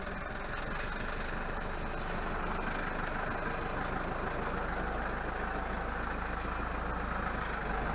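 A tractor engine idles steadily and loudly, a continuous low rumbling chug with no breaks throughout.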